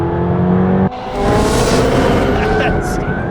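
A McLaren 720S engine roars under hard acceleration, pitch climbing after a quick gear change, loud and close with strong wind rush.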